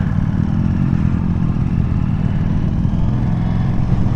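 Aprilia RS660 motorcycle being ridden, a loud, steady mid-pitched engine drone with rushing wind noise close to the rider, running continuously without distinct breaks.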